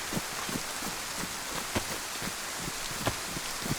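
Steady rain falls in the video game DayZ, a dense hiss of drops pattering on surfaces with scattered louder taps, continuous and fairly close with no speech.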